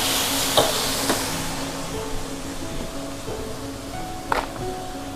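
Garlic and shrimp stir-fry in a pan with a little added water, giving a steady close sizzle and hiss, broken by a few sharp scrapes and taps of a utensil against the pan.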